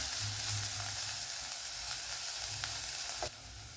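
Crushed chili sizzles steadily in a hot pan while Karimeen Pollichathu, the Kerala pearl spot fish dish, is being made; a continuous close frying hiss with no voices.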